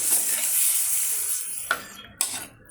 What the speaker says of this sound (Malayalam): പുളിവെള്ളം ഒഴിച്ച് കൊടുക്കുക